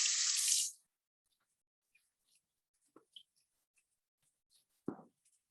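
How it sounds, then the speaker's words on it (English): Cold tap water gushes briefly over lettuce at the start, then cuts off, leaving near silence with a few faint clicks and knocks of handling. "And now I'm gonna rinse it with cold water."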